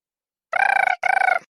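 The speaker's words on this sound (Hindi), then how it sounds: "ला मेरा फोन आता।" A mobile phone ringing, two short electronic trilling bursts with a brief gap between them, clear and close, with silence before.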